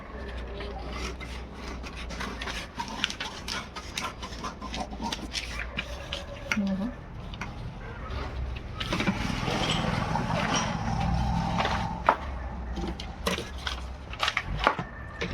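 Scissors cut through a paper pattern for a size 36 blouse, snipping along the cross strip and the cup shape in a steady run of close, dry rasping strokes that keeps going with no voices.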